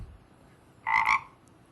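A frog in the Motion Math Zoom video game gives a single loud, clear two-pulse croak that is close and bright over a faint background hiss.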